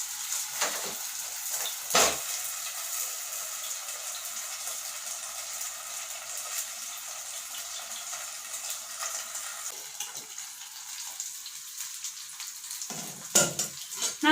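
Chicken malai kebab sizzles in a covered pan as a steady, fairly quiet frying hiss that runs throughout, broken by a few sharp clinks of a lid or utensil.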